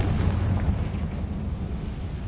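A fiery blast spell from a Hogwarts wizarding game roars as a loud, rumbling explosion that fills the moment, deep and sustained with no talking.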